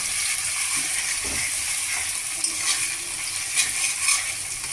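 Chopped tomatoes sizzle in a pan over a high gas flame while a utensil scrapes and stirs, making irregular clattering scrapes over a steady fry.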